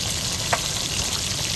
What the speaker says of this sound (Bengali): আপা দেখো মাছগুলো কত টবক টবক করে হচ্ছে।